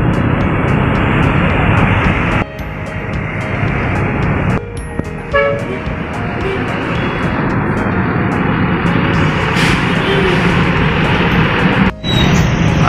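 A Scania bus passes by at a busy Bekasi Timur roadside in the afternoon, with a loud continuous engine and road roar, a couple of brief dips and short horn-like toots amid traffic.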